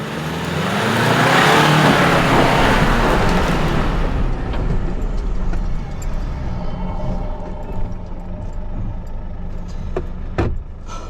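4WD engine revving hard at full throttle while climbing wet, slippery red clay ruts on a rough army trail near Coffs Harbour, a loud sustained roar that peaks early and then settles into a rougher, lower drone with clunks.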